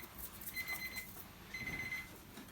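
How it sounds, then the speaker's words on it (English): An oven timer buzzer sounds for baking bread, two faint beeping bursts heard alone in a quiet room. "that's our buzzer for our bread in the oven"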